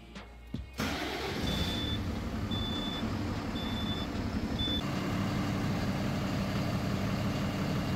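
A DAF LF truck diesel engine with an EGR fault cranks and catches, then settles into a steady low warm-up idle. Four short, high electronic beeps sound evenly spaced during the first few seconds.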